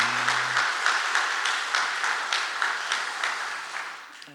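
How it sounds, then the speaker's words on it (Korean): Applause from a church congregation during an ordination service, a steady patter of many hands clapping together for a few seconds, fairly close, with no talking. "그 의미를 담아서 다시 한번 박수하겠습니다"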